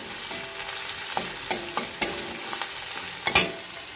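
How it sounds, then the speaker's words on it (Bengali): Ginger and boiled chana dal fry in a pan, with a constant sizzle under irregular scraping and clacking strokes of a spoon stirring close by, no voices. "আদাটা দিয়ে আদাটার কাঁচা গন্ধটা যাওয়া পর্যন্ত একটু নাড়বো।"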